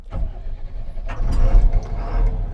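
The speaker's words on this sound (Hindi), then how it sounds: "चलो अब गाड़ी को हम स्टार्ट करते हैं और" Diesel engine of a Mahindra Blazo heavy truck, a 7.2-litre mPower unit rated 320 hp, cranks and fires up, settling into a loud, rough close-up idle with a low rumble throughout.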